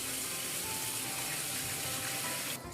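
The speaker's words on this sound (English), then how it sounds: "Then rinse the cabbage thoroughly under running water." Chinese cabbage is rinsed under a running kitchen tap, a steady close hiss and splash of flowing water that cuts off abruptly near the end.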